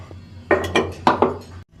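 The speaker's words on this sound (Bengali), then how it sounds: "এখানে কড়াই বসিয়ে নিয়েছি" A metal kadai wok is set down on a stove with a few clanking knocks, four quick close metallic hits against a low steady hum.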